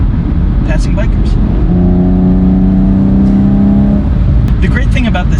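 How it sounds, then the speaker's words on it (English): A 2016 Chevy Camaro 2LT with a naturally aspirated V6 and manual gearbox revs hard under acceleration, its engine tone rising steadily and loud, with a voice talking over it. "It builds all the way up through the rev line, which is such a great thing about naturally aspirated engines."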